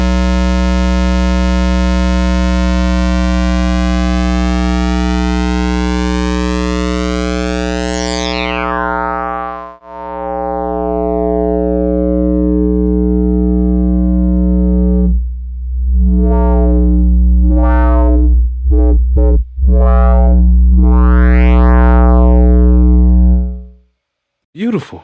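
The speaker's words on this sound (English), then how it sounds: "I just love the pulse sound" A Cherry Audio DreamSynth synthesizer plays its pulse oscillator as loud, buzzy sustained tones rich in harmonics, with pitch and timbre sweeping and shifting, then broken into several shorter notes before it cuts off.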